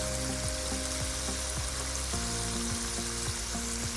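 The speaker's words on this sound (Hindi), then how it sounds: "अब इसको अच्छी तरीके से हम भूनेंगे।" Lobia masala with garlic-ginger paste and crushed chili fries in a pan, making a loud, continuous close-up sizzle with occasional soft stirring knocks.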